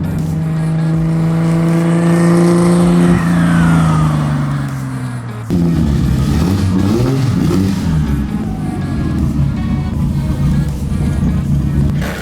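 A Nissan R32 GT-R running rich revs hard while driving, its engine note rising through the gears with a loud, steady drone and a shift partway through, close and continuous with no voices.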